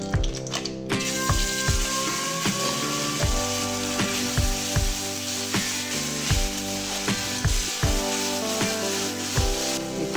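Spice paste fries in about a spoonful of oil with a bay leaf and a little sugar, crackling and sizzling under repeated metallic scrapes and clinks of stirring against the pan.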